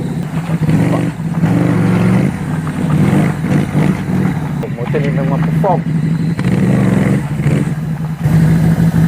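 A Buccaneer 250i motorcycle ridden off-road in second gear, its engine droning loud and close with rises in revs and some clatter, while someone talks over it throughout.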